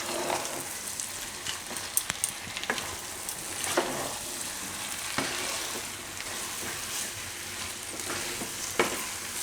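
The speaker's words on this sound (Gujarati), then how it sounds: "હવે એમાં નાખી દઉં રીંગણા આપણે. અને મિક્સ કરી લઉં." Mashed brinjal mixture being stirred in a hot pan for a Gujarati lilva odo dish, with a steady sizzle and scattered spoon scrapes throughout; no talking.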